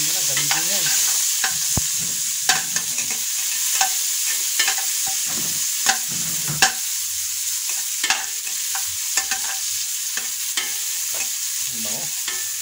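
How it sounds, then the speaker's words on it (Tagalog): Garlic and onion sauté in a pan for chicken-feet sinigang, a continuous close sizzle broken by frequent sharp scrapes and clicks of a utensil stirring against the pan. "lutuin niyo lang yung bawang sibuyas"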